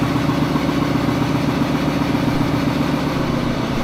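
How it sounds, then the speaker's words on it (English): A motor driving the hydraulic pump of an ironworker, suspected to be faulty, runs with a steady, loud, continuous hum and drone, close by and unchanging throughout, with no talking. "I think I have a bad motor."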